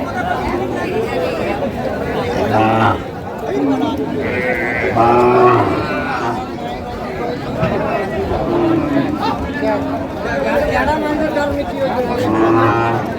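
Several cattle low repeatedly amid a busy crowd at a livestock market, their deep calls rising over steady chatter and nearby voices.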